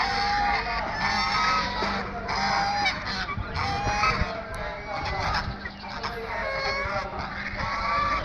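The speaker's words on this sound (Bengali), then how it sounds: "হাঁসগুলো ডাকাডাকি করছে।" A flock of ducks calls and honks continuously, several birds overlapping in a noisy outdoor chorus with bursts of squabbling, close and fairly loud.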